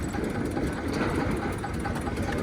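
A tractor engine's steady, low rumble idles continuously throughout, with no voices and no change in pace.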